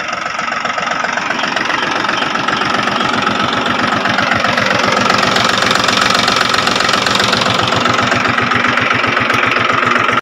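An old tractor engine idles during paddy sowing, a loud, close, steady knocking chug with a fast, regular beat that holds for the whole stretch.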